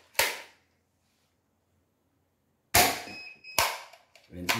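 A Nerf Rival Knockout blaster fires in a sharp, close crack, followed after a long pause by two more shots a moment apart and a clattering burst at the end.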